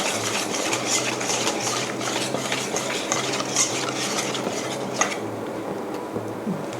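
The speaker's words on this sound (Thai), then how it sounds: "คนให้เข้ากันเรื่อยๆแบบนี้นะคะ" A spoon works thick batter for Thai fried bananas round a bowl in a steady, rhythmic scraping and sloshing, with light clinks of metal against the bowl, close and continuous throughout.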